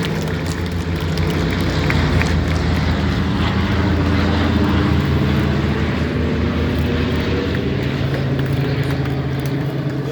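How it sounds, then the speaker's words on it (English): Two C-47 propeller transport aircraft pass overhead in a D-Day 75th anniversary flyover, a loud, continuous droning engine roar that holds steady throughout. "this should be our two C-47s"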